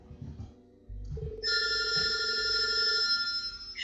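A telephone rings in the horror video game Project Kat: a steady electronic ring starts after a few low thuds and holds loud and unbroken, with a second ring tone layered on top.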